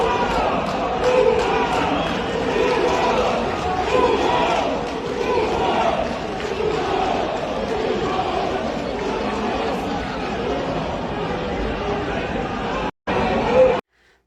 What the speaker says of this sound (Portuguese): saiu sendo xingado e vaiado pela torcida